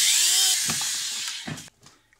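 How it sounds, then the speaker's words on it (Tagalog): A Dremel rotary tool, running off a portable power station, whines at high pitch for about half a second, then winds down with scattered clunks and rattles as it stops, close and with no talk. "Dremel."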